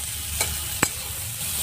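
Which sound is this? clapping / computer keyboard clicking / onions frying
onions frying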